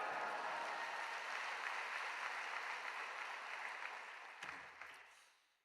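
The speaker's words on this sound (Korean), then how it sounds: "나오실 때 큰 소리로 할렐루야 외치며 박수로 맞이하겠습니다." A church congregation at a dawn worship service claps to welcome a preacher, a broad, fairly soft wash of applause that holds steady, then thins out and fades toward the end.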